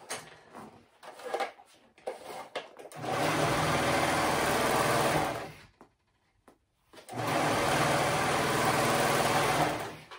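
A sewing machine stitches shoulder seams on woven fabric in two long steady bursts, close and loud, separated by a short pause, with brief handling noises at the start.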